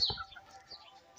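A brief, faint Sindhi hen cluck and squawk near the start as the frightened hen reacts, followed by quieter scattered bird sounds.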